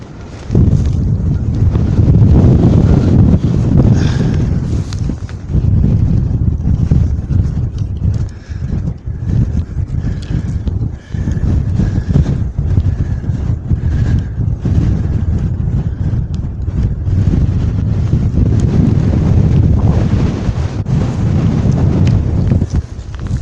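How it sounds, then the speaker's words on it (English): Strong, gusty wind buffets the microphone on an exposed hilltop burial mound in Britain, with loud, continuous low-frequency roar and rumble throughout. "is pretty windy."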